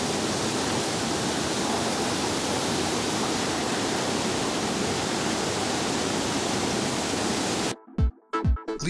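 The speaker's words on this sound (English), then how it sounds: "the Philippines might be hot, but Mabodil waterfall puts out some cold water." Mabodil waterfall in Ifugao, Philippines, roars as a steady, loud, broadband rush of falling water that continues unbroken for most of the stretch before cutting off abruptly near the end.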